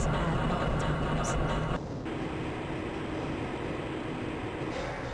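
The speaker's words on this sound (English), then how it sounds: "Interesting. This train." Train rumbling along in the video game Half-Life: Blue Shift, a steady broadband roar of rail travel that stays loud throughout with a slight change in tone partway.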